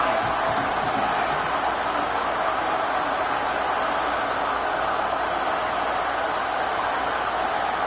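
A football stadium crowd at an Alabama versus Ole Miss game roars steadily as a broad, continuous wash of noise. It stays loud and unbroken, with no distinct voices standing out.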